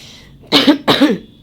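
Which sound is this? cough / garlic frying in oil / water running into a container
cough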